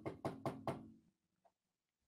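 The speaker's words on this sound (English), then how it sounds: "who the fuck is knocking at the door at this time of night?" Four firm knocks on a door come in quick even succession, close and distinct, followed by near silence with a couple of faint small taps.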